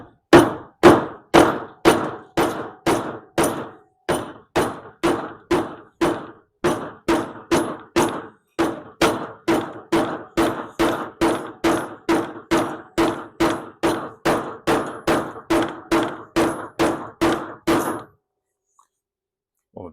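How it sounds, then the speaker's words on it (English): Steady, evenly spaced hammer blows ring out, about forty sharp metallic strikes in under eighteen seconds, loud and close, during work on a custom air ride setup for a Mk2 Golf GTI VR6, then silence. "And it's hammer time."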